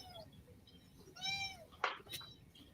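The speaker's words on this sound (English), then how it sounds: "Can you guys hear my cat?" A house cat meows indoors, a few separate rising-and-falling calls with a sharp click or knock between them, fairly close but soft, with no talk over it.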